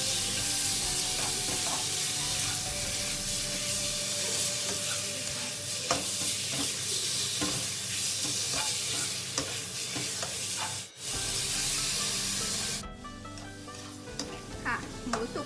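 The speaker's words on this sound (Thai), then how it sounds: "ผัดพริกกับกระเทียมแป๊บนึงค่ะก็ใส่เนื้อลงไปผัดด้วยกันเลยค่ะ" Beef stir-fried with chili and garlic in a hot pan, giving a loud continuous sizzle with spatula scraping and stirring throughout, briefly cut off near the end.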